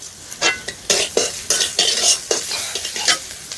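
Spice paste with cumin powder, sugar and sour curd frying in a pan for an egg puri dish, with loud repeated scraping stirs in an uneven rhythm over a constant sizzle.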